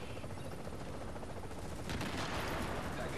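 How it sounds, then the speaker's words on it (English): Gunfire and grenade blasts in The Division video game, heard as a dense, continuous crackle of shots with a louder burst partway through, all fairly distant and noisy. "The fuck is throwing grenades, man?"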